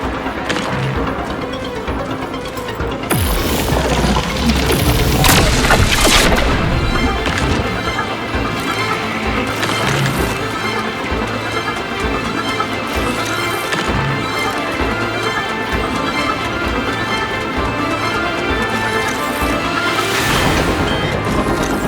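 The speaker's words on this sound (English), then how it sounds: "Is lit up like a freaking fireworks show. These contain short circuits." In The Alters, short circuits spark and burst in an overheating area, with repeated loud crackling bangs and crashes over a dense, continuous game soundscape, no talking.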